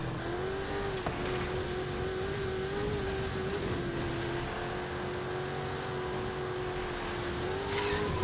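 A level 10 Lamborghini Centenario in a racing video game drones with a steady engine note that rises and dips slightly as it cruises, moderately loud and continuous, with no talking.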